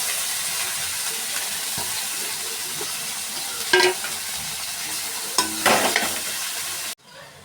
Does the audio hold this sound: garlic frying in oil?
yes